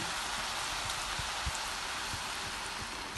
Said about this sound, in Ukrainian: і тепер е, це все потрібно залити водою